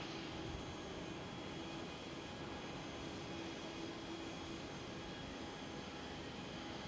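A KLM Boeing 777-300ER jet taxis at Schiphol airport with a faint, steady engine drone heard from a distance and no voices.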